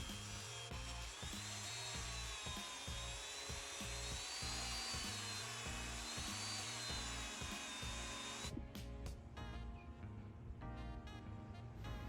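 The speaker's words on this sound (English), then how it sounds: "So I just used the drill and then the polishing attachment for the Dremel" A drill with a polishing attachment works on a vintage road bike hub, a whining motor with rhythmic pulsing bursts as the tool bears on the metal, then stuttering in short starts and stops near the end.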